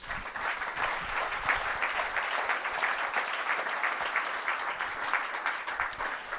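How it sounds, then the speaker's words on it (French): Continuous applause from an audience at an event at the Château de Lapalisse honouring a foil fencer, a steady, even wash of many hands clapping at a distance with no talk over it. "On l'applaudit, c'est tout ce qu'il y a à dire."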